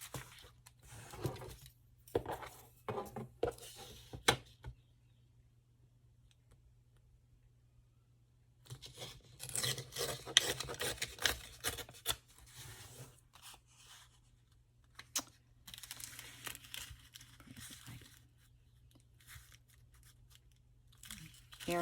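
Junk-mail envelope paper being cut, scissors snipping and crinkling in short irregular bursts separated by quiet gaps, close and fairly faint.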